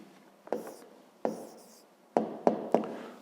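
A pen writes a math answer on paper, giving a few distinct scratchy strokes: two separate ones early, then three quick strokes in a row near the end, close and fairly quiet.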